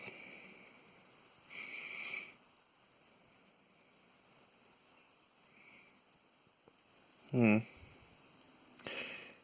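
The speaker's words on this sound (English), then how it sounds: "There's cricket." A steady high-pitched cricket chirp trills continuously, with a couple of brief louder knocks and rustles partway through.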